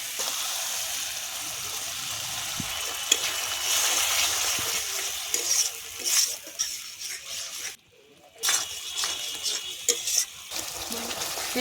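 Mustard-poppy paste frying in oil for a Bengali tilapia curry, stirred in a pan: continuous sizzling with scraping and clacking of a spatula, close and fairly loud, with a brief quiet gap partway through.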